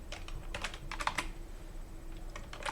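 Rapid bursts of keystrokes on a computer keyboard while code is typed, clustered in quick runs with short pauses, close and clear with no talking.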